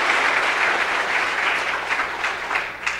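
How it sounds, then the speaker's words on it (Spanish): A church congregation applauds together during a Spanish-language Catholic service, producing steady dense clapping that stays loud and continuous throughout. "Dale un fuerte aplauso a la palabra de nuestro Señor y Salvador"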